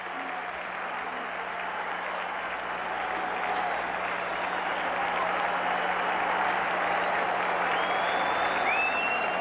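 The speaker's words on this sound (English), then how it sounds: "they get a round of applause" Ballpark crowd at a Chicago White Sox game in Cleveland applauding as Sox players come out after a ninth-inning comeback, a broad sustained roar of clapping that swells slightly, with faint whistles near the end.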